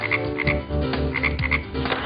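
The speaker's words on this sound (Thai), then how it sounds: "กบ เจ้าสัตว์ตัวเล็กที่เด็ก ๆ รู้จักกันดี ด้วยรูปลักษณ์ที่โดดเด่นและเสียงร้องที่ไม่เหมือนใคร" Frogs croak in a steady, rapid chorus of repeated calls, close and continuous with no voices.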